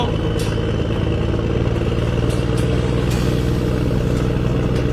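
A motorbike is ridden fast by a jackal and a tiger in an animated story, heard as a steady, loud engine drone with faint clatter running without a break throughout.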